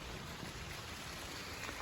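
Steady rain falls throughout a hike on a rainy day near a waterfall overlook, forming a continuous hiss that stays close and even from start to finish.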